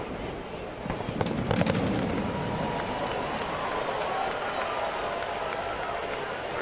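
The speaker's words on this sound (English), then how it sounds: "I'm told the first fireworks was the start." Fireworks burst at a baseball stadium, a dense, continuous rumble of booms blended with the roar of a large crowd and some voices, loud and sustained throughout.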